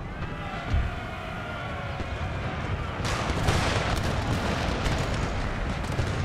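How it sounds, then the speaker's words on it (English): Cannons fire in an Empire: Total War battle, a rolling barrage of booms and crackling volleys that builds into a dense, continuous roar of distant gunfire. "the cannons are actually targeting them instead of targeting the other artillery"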